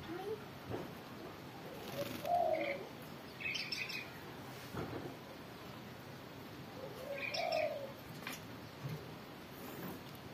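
A Javan myna (jalak kebo) being bathed at midday gives two bursts of whistled, chirping calls several seconds apart, close by, with water and a person talking in the background.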